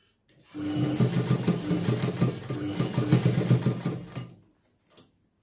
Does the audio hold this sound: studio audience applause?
no